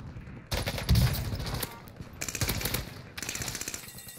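Bursts of automatic gunfire from the Liana gun in a Warzone match, loud and close, coming in several rapid volleys separated by brief pauses.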